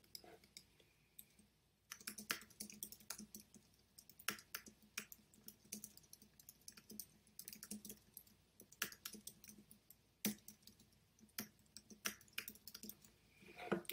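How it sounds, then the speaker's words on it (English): Typing on a computer keyboard, a steady run of light, close key clicks with irregular rhythm and brief pauses, fairly quiet and alone. "Let me type this out."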